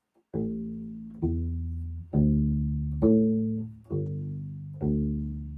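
A walking bass line on a U-Bass: six deep, round plucked notes in an even, unhurried rhythm, each ringing and slowly fading until the next, played close and alone with no talking.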